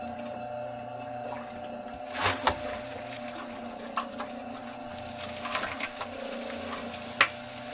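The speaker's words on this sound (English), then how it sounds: "Use some of this rainwater in the tub here to mix some of my first cob." Cob mud being mixed with rainwater in a tub, giving soft wet squelches and sloshes with a few sharper slaps over a steady background hum, close by with no talking.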